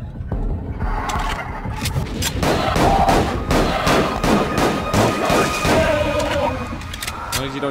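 Video game gunfire in an abandoned-clinic horror shooter, with repeated sharp shots and bursts rattling across the whole stretch, loud and close, mixed with other game effects.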